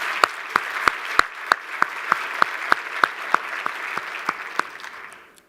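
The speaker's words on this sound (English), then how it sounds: "Let's just give them a round of applause," An audience at a teachers' summit gives a round of applause, heard as sparse, distinct handclaps, roughly a dozen sharp claps in loose rhythm, fairly close and alone, tapering off at the end.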